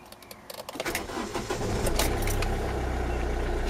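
A 2010 Hyundai i20 diesel engine being cranked and started, with a few clicks and jingles at the start, then a short crank that catches into a steady, close diesel idle.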